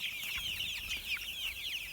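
Three-week-old chicks raised in a large outdoor group pen peep and cluck in a busy, overlapping chorus, close and fairly soft, with light rustling in the background.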